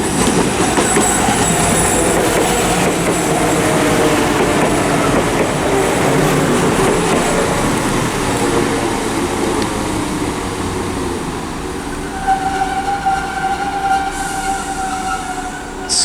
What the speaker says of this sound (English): Squealing its way into Stourbridge Junction.